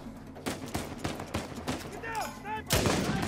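Gunfire in the Uncharted 4: A Thief's End video game, a rapid string of sharp shots firing in bursts, with a heavier blast near the end, while players talk over the fighting.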